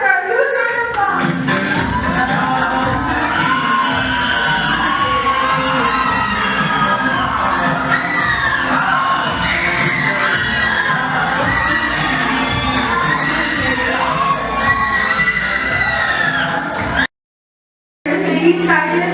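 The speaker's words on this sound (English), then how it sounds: "Please give her a huge round of applause." Students at a middle school graduation ceremony cheer, shout and clap for a teacher, a dense and loud crowd din with children's voices that holds steady throughout before cutting off abruptly near the end.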